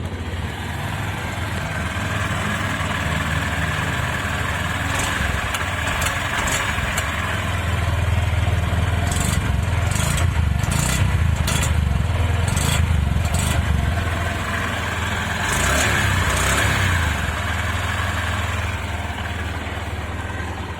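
Honda SP 125 motorcycle engine idling steadily up close, with a few brief revs pulsing through the middle of the steady mechanical hum; no talking.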